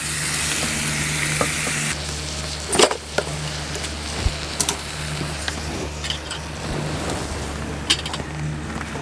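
Garlic chilli king prawns fry in a pan outdoors, giving a loud, steady sizzle with sharp pops and utensil clatters and a low hum underneath; no one speaks.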